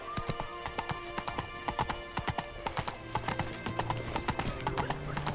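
Roach, Geralt's horse in The Witcher 3, trots with a steady, rhythmic clip-clop of hooves, fairly close and continuous, with a low tonal rumble of game music or ambience underneath.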